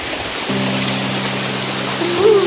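Water from a waterfall on a Warangal trek pours in a steady broadband rush, loud and continuous through the whole short stretch.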